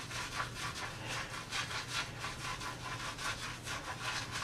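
A makeup brush is scrubbed back and forth on a ridged rubber cleaning mat, making a fast, even, close rhythmic rubbing and scratching with no voices.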